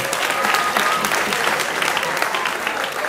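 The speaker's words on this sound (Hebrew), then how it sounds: "מחיאות כפיים לאפרת" Sustained applause from an audience at a rabbi's lecture, dense and steady clapping filling the whole stretch without a break.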